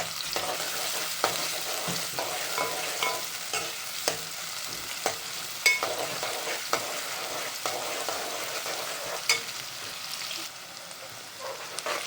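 Onions sizzling steadily in a pan with chili peppers while dry fish curry cooks, a continuous close hiss broken by occasional stirring clacks of a utensil, no talking.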